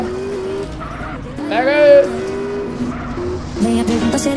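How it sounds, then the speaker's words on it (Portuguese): A car in a GTA video game skids and slides with a rising tire squeal over engine noise, loud and brief in the middle of the clip, while someone talks over the gameplay. "deslizamos aqui"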